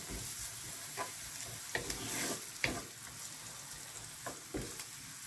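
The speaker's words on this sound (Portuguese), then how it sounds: "Vamos mexer um pouquinho até ficar transparente." Food is stirred in a pan, a soft, fairly faint sizzle with a few sharper scrapes and clicks spaced irregularly as it cooks, no voices.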